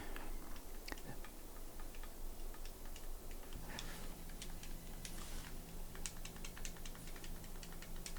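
Buttons on an AYANEO Pocket ACE handheld gaming device being pressed, giving a run of small, quiet, clacky ticks in uneven bursts over a low steady hum, close up.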